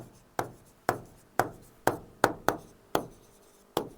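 Chalk or marker strokes on a classroom board while writing an answer, about nine sharp scratchy strokes at an uneven rhythm, close and clear, with no talking.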